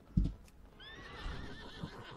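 A horse in World of Warcraft gives a short snort and then a rising, wavering whinny, with a few hoof clops underneath, fairly quiet and alone.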